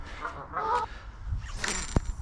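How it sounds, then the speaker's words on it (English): Geese honk in a noisy morning flock beside water during a fishing outing, with several overlapping calls from a middle distance over steady outdoor background noise. "Oh boy, these geese are crazy this morning."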